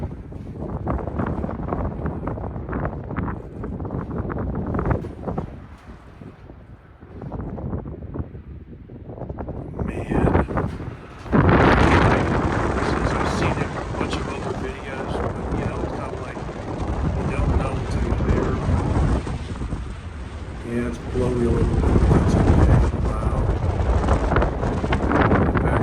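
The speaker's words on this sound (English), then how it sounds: "It's kind of a little windy day" Gusty wind at the summit of Stratton Mountain near the gondola roars across the microphone, fluctuating from lulls to loud, sustained blasts, with a person talking intermittently.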